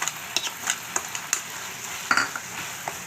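Boiled beetroot sautéed in a pan with a ground paste of coconut, fennel and pepper, a spoon clacking and scraping against the pan in quick repeated strokes over a light sizzle, close and clear, with no talking.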